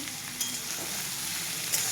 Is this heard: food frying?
yes